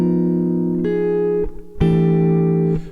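Two sustained jazz guitar chords ring out one after the other, the dominant chord with an altered ninth leading into a resolving C, both clear and close with a brief gap between them.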